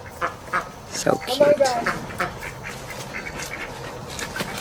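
Ducks quacking on a Mississippi homestead as they are herded back home, scattered calls mixed with people talking close by.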